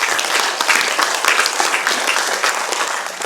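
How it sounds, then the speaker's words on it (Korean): An audience at a talk on the climate crisis and carbon neutrality in Seosan claps in encouragement, a brief, steady round of applause filling the room. "같이 우리 격려의 박수를 시작하면서"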